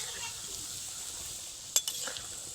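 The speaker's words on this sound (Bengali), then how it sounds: "পকোড়াগুলো উল্টে দিচ্ছি আমি" Pakoras sizzle in a pan of hot oil with a steady hiss, and a few short scraping clinks of a utensil turning them break through near the end.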